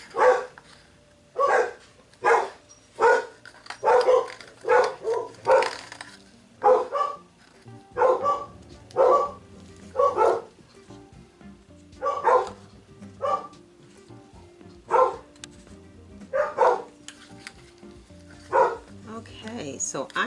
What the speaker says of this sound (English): If you hear my dog, somebody's at my front door.